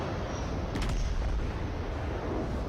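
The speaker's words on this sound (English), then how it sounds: "The Iowa is definitely better suited at long-range shooting." Main guns of the Iowa battleship fire in the naval video game World of Warships, heard as a single muffled boom early on within a steady, noisy game background.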